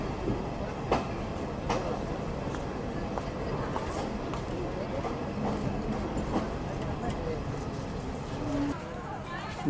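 A crowded commuter train pulls into Navaran railway station with a steady rumble of wheels and faint clicks on the rails. A voice talks over the noise throughout.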